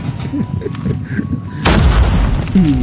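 Sniper rifle fire in a shooting video game, a single heavy booming shot cutting in partway through and ringing on, after quieter game background and faint talk.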